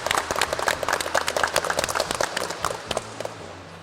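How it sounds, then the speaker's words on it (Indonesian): Applause in an automotive classroom, a short burst of quick, uneven clapping from a group of students that thins out toward the end. "Tepuk tangan untuk semua."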